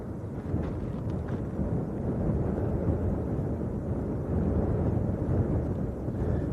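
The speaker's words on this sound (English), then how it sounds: "it sounds windy" Constant heavy rumbling wind buffeting the microphone at Lanzarote Arrecife Airport, a dense low roar with no voices, steady throughout.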